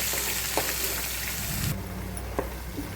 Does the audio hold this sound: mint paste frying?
yes